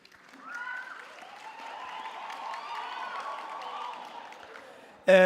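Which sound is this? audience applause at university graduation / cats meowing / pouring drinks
audience applause at university graduation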